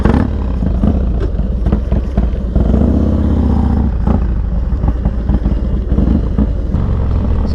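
A Harley motorcycle revs and roars loudly, very close, as it is ridden for wheelies, the engine surging and dipping in rough bursts throughout.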